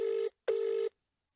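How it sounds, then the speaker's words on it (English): A telephone rings in two short electronic bursts separated by a brief gap, then falls silent; the tone is clear and moderately loud. "It's the longest phone call ever."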